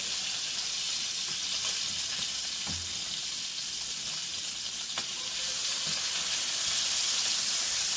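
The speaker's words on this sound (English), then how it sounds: "That good bacon just popping and getting ready to get crispy" Bacon sizzling in a pan, a steady close hiss with occasional sharp pops, fairly loud and alone throughout.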